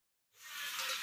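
Tamarind juice poured into a hot pan for Telugu pepper soup, silence then a sudden loud sizzling hiss that stays steady to the end.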